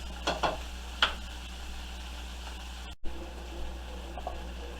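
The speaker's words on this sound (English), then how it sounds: "So we're going to get all of this sauteed down" Shrimp and vegetables for a shrimp cheese steak sub sauté in a pan with a quiet, steady sizzle, broken by a few soft clinks and stirring knocks.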